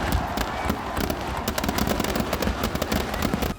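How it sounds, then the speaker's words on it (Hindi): Dense crackling bursts of fireworks at a Ravan Dahan Dussehra celebration on the Kota ground, set off after an effigy of Meghnad is lit, popping continuously and loudly with overlapping bangs and a crowd murmur underneath. "जिसके बाद वहां आतिशबाजी शुरू हो गई।"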